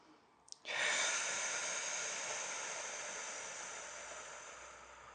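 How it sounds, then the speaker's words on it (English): Steady breath blown out through pursed lips as if through a straw during a knee exercise routine, a long hissing exhale that starts abruptly after a short inhale and slowly fades over several seconds, close and alone. "You can do out through pursed lips like you're breathing through a straw."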